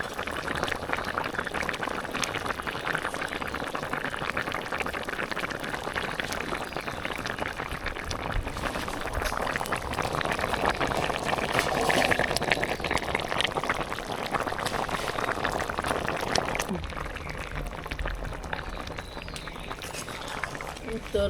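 Koi fish curry with taro bori, tomato and potato simmering in a pot, a dense continuous bubbling and hissing boil that stays close and steady throughout, with a voice talking over it.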